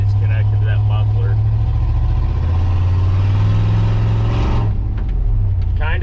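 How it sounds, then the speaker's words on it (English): Chevrolet Silverado 2500 with a 6.0 engine and a loud exhaust leak, its dual exhaust with only one side connected to the muffler, idling with a heavy, rough, continuous rumble up close before a brief lift and drop in revs. "Terrible exhaust leak, super loud. It's a dual exhaust and only one side is connected to that muffler."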